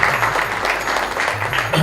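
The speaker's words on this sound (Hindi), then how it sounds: "तालियों से प्लीज स्वागत किया जाए" Audience applause welcomes the trustees of Ambika Yog Niketan at a yoga event, a steady wash of clapping from a crowd that holds through the short moment without pause.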